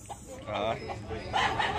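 A rooster clucks and calls in short bursts, fairly close, with someone talking over it.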